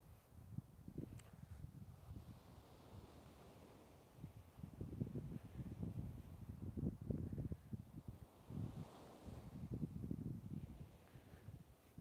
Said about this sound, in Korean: 여러분 여기 저기 해운대 파도예요 바다 앞바다